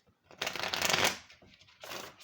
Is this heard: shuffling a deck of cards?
yes